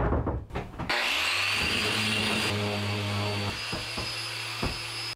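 Power sander droning steadily on a wooden hat rack with shelves added, a loud continuous motorized hum with small shifts in pitch and faint scraping knocks, close up.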